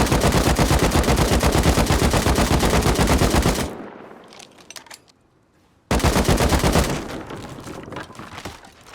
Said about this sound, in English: that was just over 1 mag from an AR